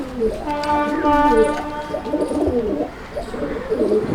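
Pigeons in a loft coo steadily, with repeated close, rolling calls running through most of the stretch while someone talks over them.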